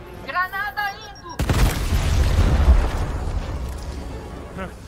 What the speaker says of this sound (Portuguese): Granada indo.